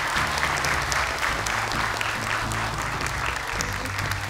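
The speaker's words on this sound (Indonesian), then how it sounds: "Tepuk tangan dong untuk Ahsan, luar biasa." Audience applause at a children's Quran recitation show, a steady wash of clapping from a crowd of parents, with a low hum or music bed running underneath throughout.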